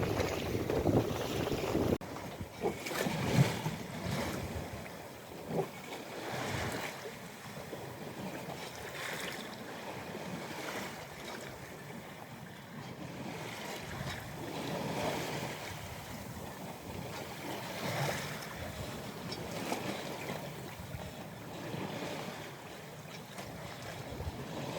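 A sailboat under way on open water between Björkö and Idö, with steady wind buffeting the microphone and waves washing against the hull, continuous and fairly loud throughout.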